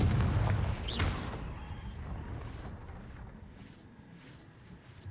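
Confringo spell blast exploding in the Hogwarts Legacy video game: a loud booming burst at the start with a bright crackling flare, then a long rumbling decay and faint debris fading away alone.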